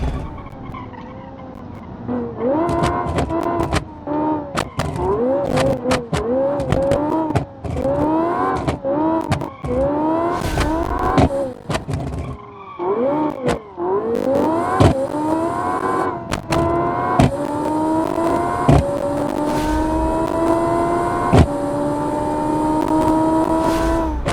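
Ferrari race car engine revving hard toward 12,000 RPM during a showcase race heat, loud and close with repeated rising and falling pitch sweeps, then a long sustained climb, with tire noise mixed in.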